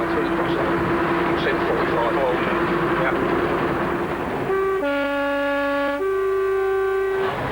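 A train rumbles along the track with a sustained tonal whine, then a loud two-tone horn blasts near the end; a voice talks over it.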